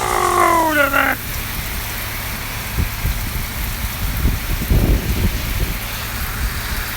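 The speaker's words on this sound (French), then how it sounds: "il pleut solide." Steady rain pours down in a continuous hiss, close and fairly loud, after a short voice at the beginning.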